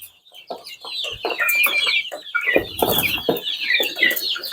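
A flock of 60-day-old chickens clucks and squawks up close, overlapping calls with busy, irregular bursts and a few louder cries, no talking.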